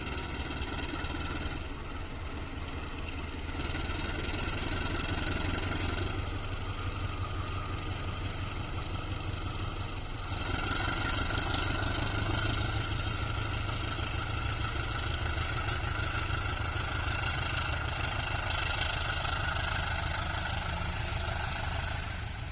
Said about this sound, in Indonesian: Lokomotif langsir.